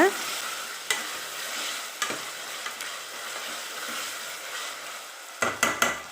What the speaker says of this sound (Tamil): த்ரீ டேபிள் ஸ்பூன் இஞ்சி பூண்டு விழுது சேர்த்துக்கிறேன் இப்போ இதை நல்லா வதக்கிக்கலாம்